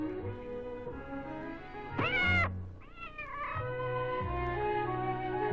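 A kitten in a Disney cartoon gives two drawn-out, wavering meows, a rising-then-falling cry followed by a shorter one, over a steady orchestral music score.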